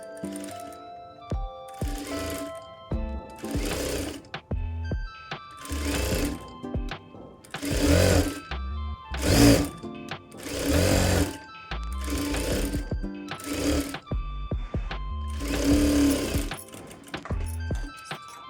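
A sewing machine stitches neck piping on a blouse front in repeated bursts of rapid clatter separated by short pauses, close and clear with no talk.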